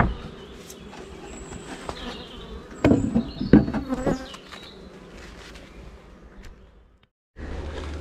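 Honeybees buzz around hives while swarms are inspected, including a polystyrene hive, in a steady close hum with louder passes of individual bees and a brief drop near the end.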